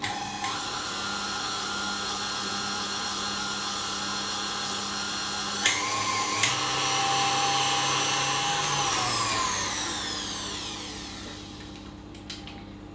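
An electric mixer beats mini egg blondie batter in a steady, high motor whine that runs for the whole stretch, with a shift in pitch and speed partway through. It is close and loud, and no one talks.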